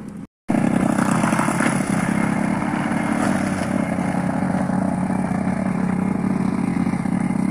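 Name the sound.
voice imitating a lawn mower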